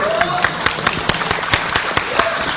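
A crowd claps steadily with sharp individual claps scattered through, and a voice talks faintly underneath.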